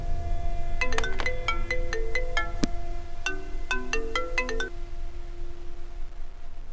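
A melodic electronic phone ringtone plays two bursts of bright, tinkling tones, the second after a short pause, with a low background hum.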